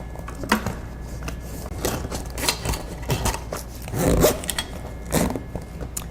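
Zippers on a pair of shorts are pulled open and closed in a series of quick, close rasping strokes, each a short burst of scraping teeth, with brief pauses between and no voices.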